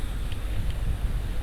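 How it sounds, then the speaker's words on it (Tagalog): Strong wind gusting across an outdoor microphone at a child's birthday party, a steady loud low roar with buffeting and no clear speech. "Grabe hangin no."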